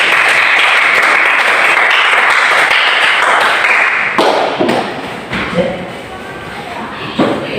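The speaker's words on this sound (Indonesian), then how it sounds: "Berikan aplaus untuk kelompok." A classroom of students claps for a group about to present, a dense sustained patter of hands for about four seconds before it thins into scattered claps, shuffling and a few thuds.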